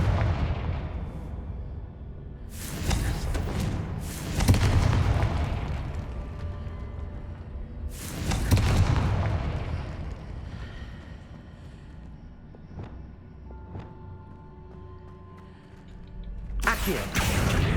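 Confringo, an explosive spell in Hogwarts Legacy, goes off in several booming blasts: a pair early on, another midway and a last one near the end, each rolling away into quieter rumbling background.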